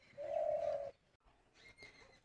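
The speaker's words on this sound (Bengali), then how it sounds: "ঘুঘু এসেছে ধান খাবে বলে" A dove on a rooftop gives one soft, low coo lasting under a second, followed by faint chirps in a quiet setting.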